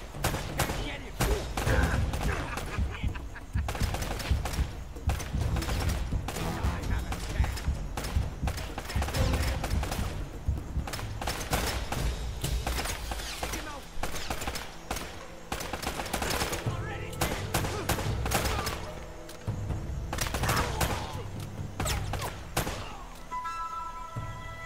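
Enemy gunfire in the Uncharted video game, repeated loud bursts of rifle and machine-gun shots over a long firefight, rapid clusters of cracks with brief gaps and a player's voice at times.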